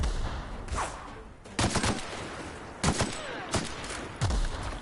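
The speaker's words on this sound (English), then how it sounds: "Sam, I would appreciate you not accidentally shooting me." Gunfire in The Outer Worlds video game: several separate bursts of shots, loud and sharp, spaced a second or so apart over a low background.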